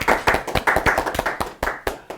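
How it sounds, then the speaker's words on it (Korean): A studio audience gives a short burst of hand clapping to welcome a guest reporter onto a Korean news talk show: dense, uneven claps, close and fairly loud, with no talk over them. "네, 박수."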